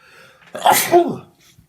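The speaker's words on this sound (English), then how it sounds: "Excuse me, I'm about to sneeze." A single sharp sneeze, close and loud, with a brief inhale before the burst and a quick tail-off afterward.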